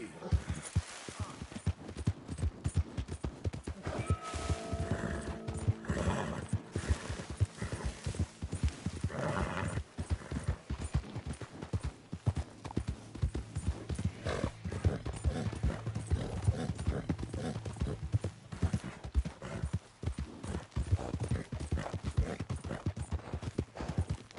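A horse in Red Dead Redemption II trots with a steady, rapid clip-clop of hooves, close and continuous under game sounds, with a brief whinny-like tone early on and a voice speaking quietly.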